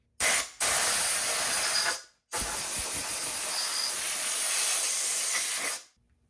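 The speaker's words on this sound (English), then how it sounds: "I'm just gonna blow them out with some compressed air" Compressed air blasting out freshly drilled holes in an M52 engine block: three loud, close hissing bursts, the first short, the next two long and steady, each cut off sharply.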